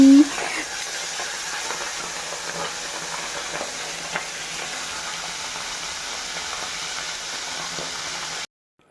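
Tangra fish fry in oil in a pan, a soft steady sizzle and hiss at moderate distance, fairly even with a few faint clicks, cutting to silence near the end.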